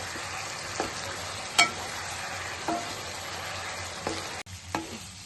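Veg Manchurian balls are stirred as they fry in a pan on high flame: a quiet, steady sizzle broken by a few sharp, sporadic scrapes and clinks.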